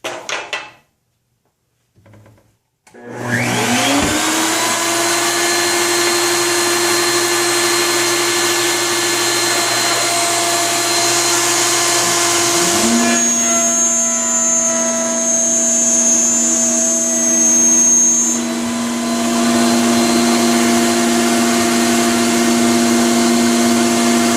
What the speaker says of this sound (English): And I raised the router bit.